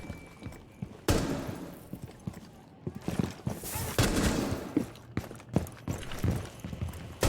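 Gunfire in Rainbow Six Siege, with sharp shots in irregular bursts and clusters over clattering mechanical handling noises, close and fairly loud.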